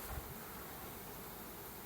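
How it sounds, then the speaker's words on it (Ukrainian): A steady, soft buzzing hum of many bees fills the air, continuous and fairly faint, with a little wind noise mixed in. "Бджоли працюють на соєшнику дуже-дуже інтенсивно."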